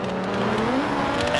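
Race cars in the BeamNG rallycross game rev and accelerate off the start line, engine pitch climbing steadily in a loud, continuous multi-car roar.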